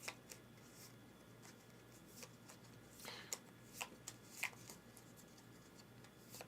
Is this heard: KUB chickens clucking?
no